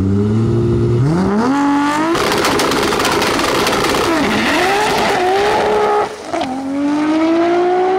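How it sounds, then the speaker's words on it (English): A Toyota Supra rat rod race car lays down a loud, sustained burnout, its engine revving up in rising sweeps with harsh tire squeal and roar, dipping briefly near the end before surging again. "Sounds so smooth and clean in the burnout."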